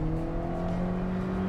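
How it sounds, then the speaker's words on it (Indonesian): A Kia Carens 1.5 IVT with a CVT transmission revs steadily under acceleration, a sustained droning engine whine held at an even pitch and loudness from inside the car. "cenderung mobilnya lebih banyak berteriak karena dia pakai transmisi CVT itu sendiri"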